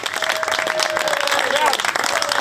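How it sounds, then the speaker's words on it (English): A gathered crowd of England boxing fans applauds Chris Billam-Smith, their clapping a busy mid-level patter mixed with cheering, chatter and a thin sustained tone. "Big round of applause for Chris Billam-Smith here."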